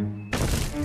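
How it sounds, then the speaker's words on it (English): Cartoon thumping from the Pororo series, taken for an approaching elephant: a sudden heavy thud cuts in after a tonal music note, then a rumbling, noisy burst of thumps continues close and loud. "What's this thumping sound?"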